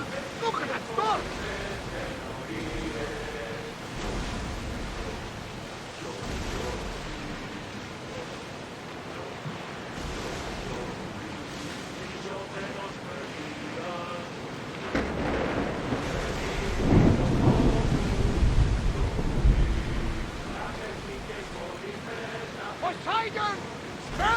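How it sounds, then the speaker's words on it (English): A thunderstorm at sea in Assassin's Creed Odyssey, with continuous rumbling wind, rain and surging waves and a heavier roll of thunder partway through, while voices talk over the storm. "Look at that storm!"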